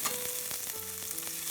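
Crushed ginger and curry leaves frying in coconut oil give a steady, close sizzle with a light crackle, no voices over it.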